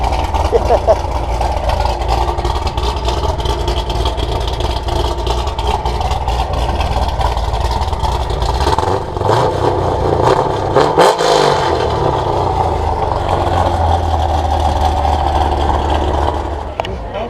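A Corvette engine with no muffler rumbles loud and raw up close, a steady throaty idle swelling into a brief rev near the middle before settling back.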